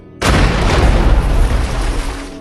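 A grenade explodes in an action film, bursting suddenly into a loud, deep boom that rolls on as a sustained rumble.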